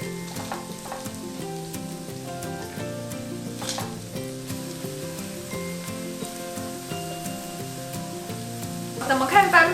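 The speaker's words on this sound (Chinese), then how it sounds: "我们现在就来煎我们的马铃薯。" Potato slices topped with chili slices fry in a little vegetable oil in a flat pan, giving a steady, close sizzle that lasts throughout under soft background music and grows slightly louder near the end.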